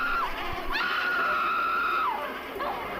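A woman's long, high scream from an Evil Dead audio drama, sustained and wavering with brief breaks, loud and close, set against a dark ambient music bed.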